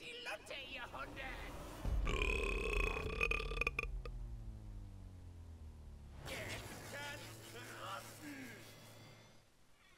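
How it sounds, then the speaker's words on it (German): A long, deep, gravelly burp rumbles out over several seconds, loud and close, during a chatty game session with people talking and game sounds in the background. "Ich fand, mein Rülps hat perfekt gepasst."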